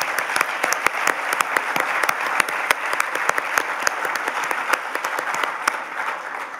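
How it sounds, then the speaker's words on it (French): An audience at an award ceremony applauds steadily for several seconds, dense overlapping claps filling the room at an even level. "Je pense que ça mériterait une main d'applaudissement."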